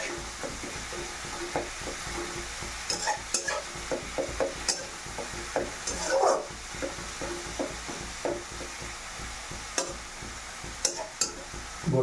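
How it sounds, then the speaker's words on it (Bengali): Whole spices fry in a pan of oil, heard as a soft steady sizzle under repeated spatula scrapes and stirring strokes, with no one talking. "এটাকে 1-2 মিনিট এটাকে সুন্দর করে ভেজে নিতে হবে"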